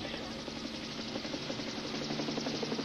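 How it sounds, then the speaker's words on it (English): A helicopter approaches with a steady, muffled rotor drone that holds at a moderate level throughout. "And now I can hear the helicopter coming."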